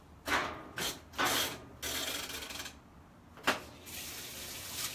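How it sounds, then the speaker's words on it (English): Water rushes into a washing machine being filled to dye clothing with Procion dye, heard as several loud bursts of flow and mechanical clunks separated by quieter hiss, alone without talk. "We're going to run the water."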